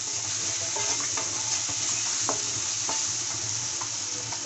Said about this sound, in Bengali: মশলাগুলো দেওয়া হয়ে গেছে, এখন আমি ভেজে নেব।